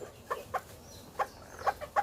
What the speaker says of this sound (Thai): ไก่เจ้ขาวหางดำครับ